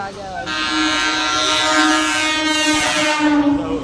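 Steady rumble and tonal drone of a moving train, with a sustained horn-like whine over it, heard from inside the carriage; a voice speaks over it.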